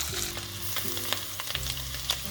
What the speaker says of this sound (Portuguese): Deixe refogar até começar a dourar, mas cuidado para não queimar.